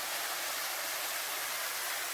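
A waterfall in Portugal pours with a steady, dense hiss of falling water, constant and close, with no voices or other sounds over it.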